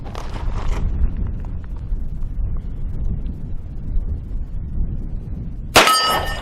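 A Ruger RXM 9mm pistol fired one-handed outdoors, one sharp shot followed by a bright ringing clang from a struck steel target, heard near the end over steady wind rumble.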